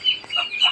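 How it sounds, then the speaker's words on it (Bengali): A desi mother hen with a dozen month-old chicks clucks in a few short, soft calls close by. "এই 12টা বাচ্চাওয়ালা দেশি মুরগি আলহামদুলিল্লাহ অনেক সুস্থ সবল আছে"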